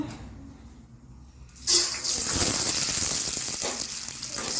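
Urad dal hits a hot pan and breaks into a sudden loud, steady sizzle that keeps hissing close by after a quiet start, with no talking.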